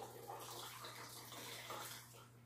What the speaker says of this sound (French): Et vous allez remplir un pot en vitre environ de 1 litre d'eau bouillie.